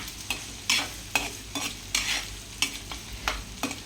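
Salted shallot curry stirred in a sizzling pan, with a brisk rhythm of repeated spoon scrapes and clacks over a steady frying hiss, close up and with no voices.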